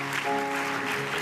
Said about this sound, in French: il est temps d'applaudir